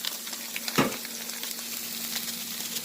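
An egg dropped into a hot pan for fried rice with jerk chicken, a brief soft impact followed by a continuous fine sizzle and crackle, close and moderately quiet.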